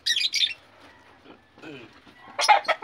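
A bato-bato bird released by hand gives loud, high squawking calls near the start and again near the end, with faint fluttering and quieter sounds in between.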